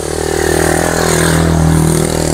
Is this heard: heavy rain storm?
no